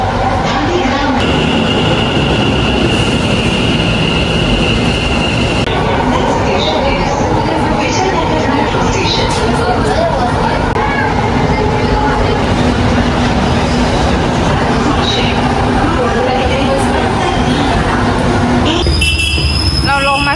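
Ride aboard an Ahmedabad metro train: a loud, steady rumble of rolling carriages with high squealing wheel tones drifting through, continuous throughout, with a shift in the noise near the end.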